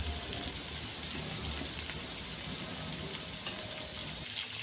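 Dhekia fern greens fry in a pan, giving a steady, even sizzle like light rain that runs without a break at low volume.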